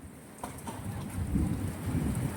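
Heavy hailstorm in Boalmari, with rain pouring steadily and a low, rolling rumble of thunder swelling beneath the dense hiss; no voices.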